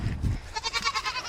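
A goat bleats once, close and loud, a short wavering cry after a low rumble.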